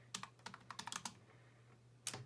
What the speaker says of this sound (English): So now we can just start typing.